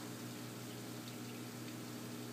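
Pump feeding salt water into a home aquarium through a chiller line during an automatic water change, a faint, constant low hum with a soft watery hiss.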